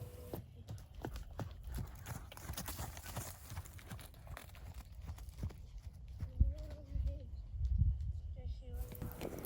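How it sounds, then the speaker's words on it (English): A mustang trots under saddle on only her second ridden outing, her hooves beating a steady, rhythmic clip-clop at close range throughout. "I am very happy with these trots for only her second ride with the saddle."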